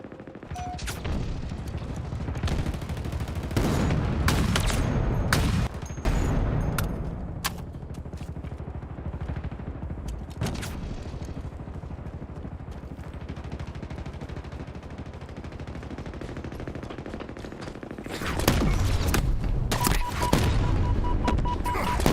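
Video game gunfire crackles in repeated bursts of sharp shots, some rapid and automatic, loud at the start and end with quieter stretches in between.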